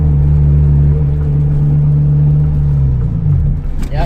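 A turbocharged Honda Integra GSR with a B18C1 engine drives along, a loud, steady low engine drone and road rumble heard from inside, with the pitch shifting slightly toward the end.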